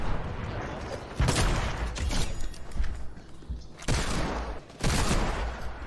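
Gunfire in the video game Fortnite, a few bursts of rapid shots in quick succession standing out over a busy, continuous game background, with loud clusters near the start, middle and end.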